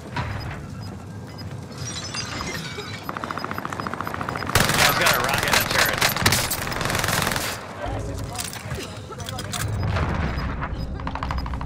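Rapid, dense automatic gunfire from a turret in a video game rattles loudly and continuously in long bursts, surging in the middle, with players talking over the racket.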